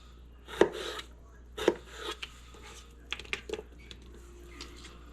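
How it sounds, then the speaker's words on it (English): A knife slices vegetables into strips for fajitas on a cutting board, with a few sharp, separate thuds followed by softer, quicker cuts, close and alone. "slice into strips."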